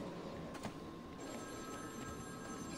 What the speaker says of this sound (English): Zzasz calling for Batman